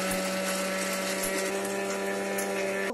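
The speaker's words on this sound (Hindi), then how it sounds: "अब हम इनको एक मिक्सी जार में डालेंगे और इनको अच्छे से पीस लेंगे" Mixer grinder jar pulverising roasted chickpeas into sattu powder, a steady high-pitched motor whine with a gritty rattle running loud and unbroken throughout.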